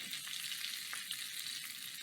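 Chicken marsala sizzles in a frying pan, a steady close crackling hiss with small pops and no talk.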